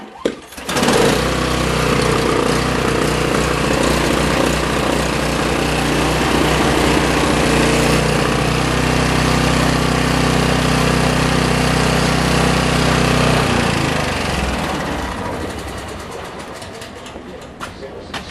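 A small engine on an outboard or similar motor is cranked and catches, then runs steadily and loudly at a constant pitch for over ten seconds before winding down and cutting out near the end.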